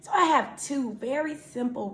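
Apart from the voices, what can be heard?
No everyday noise stands out behind the speech.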